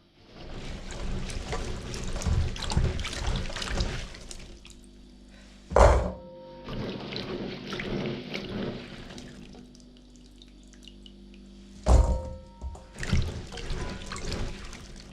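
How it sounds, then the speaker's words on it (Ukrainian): Pine cones being rinsed in water in a kitchen while making soft pine cone jam: sustained sloshing and splashing in several long bursts, broken by two sharp knocks of a pot or bowl, with no talking. "Шишки промиваємо."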